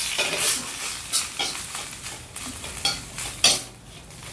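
Beef stir-fried on low heat in a pan for Thai red curry, giving a close, steady sizzle with repeated scraping and clanking of a spatula against the pan.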